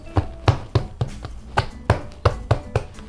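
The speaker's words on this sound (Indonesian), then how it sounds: "Nah, sekarang ini kita potong, oke, seperti ini, supaya bentuknya kotak." A knife cuts through proofed cinnamon roll dough into squares on a board, giving about a dozen crisp, evenly paced chops, close and dry with no talk.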